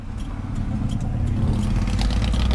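Puch 250GD truck engine running smoothly, a loud, close low rumble that grows a little heavier toward the end, steady with faint clatter, and no voices.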